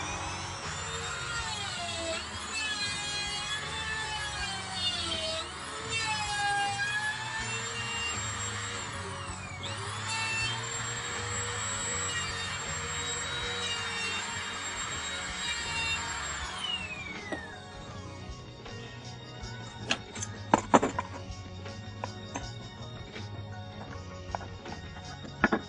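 A router bit spinning at full speed cutting dovetail tails into a 1x8 board, a high whining drone with shifting pitch as it feeds through the wood, then spinning down to scattered clicks and knocks.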